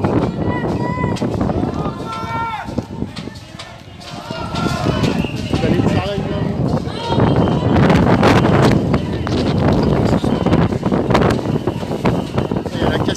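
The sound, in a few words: strong wind blowing on microphone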